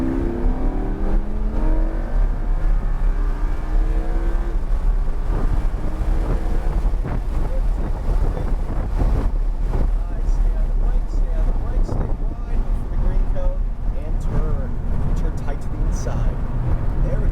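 Lamborghini accelerating on the Homestead Miami track through a cone course, the engine rising in pitch under heavy wind buffeting, with a driving instructor talking over it.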